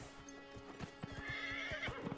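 A horse in the game Dragon Age: Inquisition neighs over steady hoofbeat clip-clops, with a rising whinny in the middle; the sound is clear and fairly close, with no talking.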